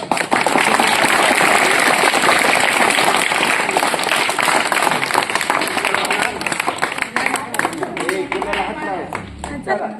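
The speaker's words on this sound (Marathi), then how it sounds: "आपल्या शाळेच्या वतीनं टाळ्या वाजून त्यांचं" Schoolchildren at a village primary school applaud a visitor after a talk on snakes. The clapping starts loud, dense and sustained, then thins out and fades over the last few seconds while voices are heard.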